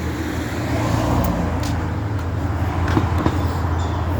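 Traffic on a street in Takoma Park, Maryland, a continuous loud rumble of cars passing close by with a broad steady roar and no talking.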